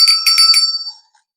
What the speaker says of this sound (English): The basic tool of the craft is the altar bell.